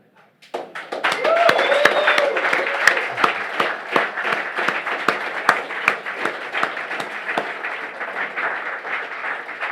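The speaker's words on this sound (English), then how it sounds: "let's give a round of applause" A standing audience claps steadily in loud, sustained applause that swells after a quiet start and continues for nearly ten seconds, with a brief whoop or cheer early on.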